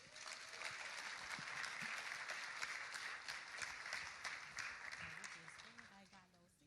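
Audience applause for a singer at an evening community event against gun violence, a steady wash of clapping with some crowd voices mixed in, tapering off near the end.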